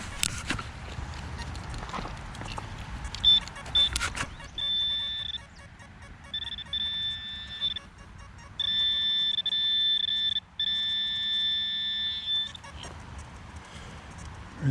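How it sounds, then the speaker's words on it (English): A Simplex metal detector gives out steady electronic tones, several sustained beeps in a row over a buried target during a field hunt, close and clear over outdoor rustling, with some brief talk. "I've just got 2 strong signals in a row with the Simplex."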